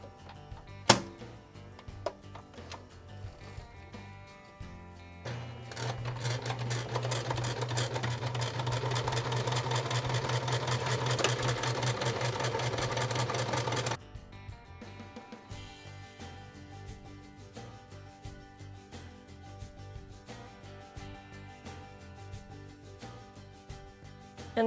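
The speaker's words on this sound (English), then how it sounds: "then I'm going to sew the bottom edge together" Sewing machine stitching the bottom edge of a folded cotton t-shirt, a steady rapid mechanical whir lasting about eight seconds between quieter handling noises before and after.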